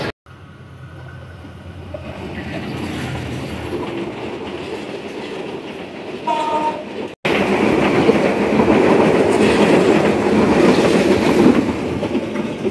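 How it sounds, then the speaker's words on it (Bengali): The Rangpur Express rumbles past at Ullapara railway station, a loud, steady roar of wheels and carriages with clattering rail noise that builds after a brief cut, heard close by with no speech. "রংপুর অভিমুখী রংপুর এক্সপ্রেস।"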